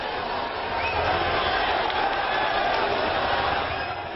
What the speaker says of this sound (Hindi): ये भीड़ जीत के जश्न से रंगी है